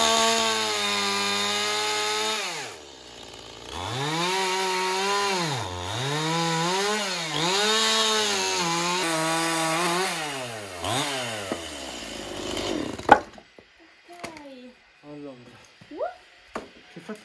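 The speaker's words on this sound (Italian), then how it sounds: "vorrei avere una motosega che taglia così" A chainsaw cuts firewood in a mountain setting, its engine note rising and falling as it bites into the log for about thirteen seconds before stopping. Softer knocks and clatter follow, and people talk over the scene.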